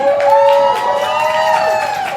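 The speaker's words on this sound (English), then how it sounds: "Make some noise for Maddie P." A poetry slam crowd whoops and cheers loudly for poet Maddie P, with high shouted voices and a dense wash of clapping underneath.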